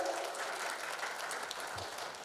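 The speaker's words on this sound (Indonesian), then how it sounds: "Tepuk tangan yang meriah terlebih dahulu Bapak Ibu." Audience applause in a hall at the Abdi Nagari Award 2025 evening ceremony, a continuous spread of clapping at fairly low level, somewhat distant and even throughout.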